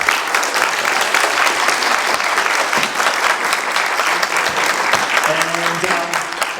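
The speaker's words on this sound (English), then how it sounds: "let's give them another round of applause" Sustained audience applause for a panel of experts at an arts festival, a dense wash of clapping from a sizeable crowd that holds steady throughout, with a faint voice emerging near the end.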